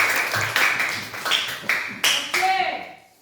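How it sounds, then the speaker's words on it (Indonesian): Students in a classroom giving short bursts of clapping, a series of sharp rhythmic claps fading out by the end, close and moderately loud. "tepuk tangan"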